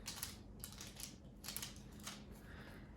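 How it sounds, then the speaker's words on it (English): A knife cuts snickerdoodle blondie bars in a baking pan, giving a series of crisp scraping and crunching strokes at an even pace, close and fairly quiet, with no talk. "So now we'll just cut them into bars."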